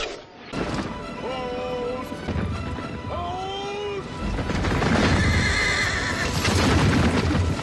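Horses charging in a medieval battle scene from the film Braveheart, with two loud whinnies and neighs up front over heavy galloping hooves, crashing and a rising roar of battle noise.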